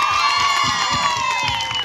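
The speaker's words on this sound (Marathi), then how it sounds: "सूरज चव्हाणसाठी जोडा टाळ्या वाजवायचे" Crowd cheering and whooping fills a short burst at a village Home Minister game show event, loud and steady throughout, with a few shouted voices in the mix.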